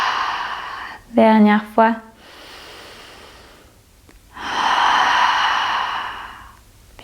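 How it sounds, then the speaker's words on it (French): A long, breathy exhalation through the mouth during a calming yoga breathing exercise, soft and sustained for a couple of seconds, following a short spoken instruction and an earlier slow breath. "Longue expiration par la bouche."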